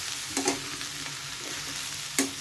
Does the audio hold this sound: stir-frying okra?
yes